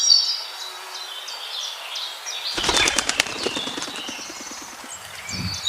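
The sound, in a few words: cartoon birds flapping wings, flying off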